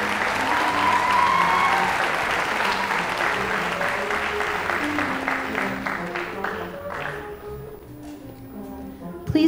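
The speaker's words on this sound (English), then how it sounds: "Give a great big round of applause to Miss Carly Gump and Mr." Audience applause fills a formal school assembly hall, dense and sustained clapping from a large crowd, thinning slightly toward the end with a sharp bump at the close.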